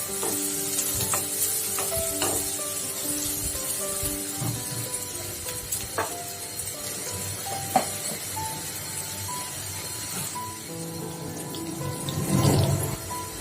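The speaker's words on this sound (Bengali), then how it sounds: "পেঁয়াজ হালকা ভাজা হয়ে গেলে" Onions salted and frying in a pan sizzle continuously while a utensil stirs them with scattered scrapes and clicks, up close and fairly loud, with no talk.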